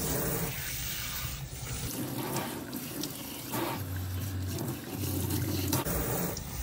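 Water runs steadily from a tap into a sink while a wig is rinsed, a continuous hiss and splash with slight shifts as the flow is disturbed, nearby and alone.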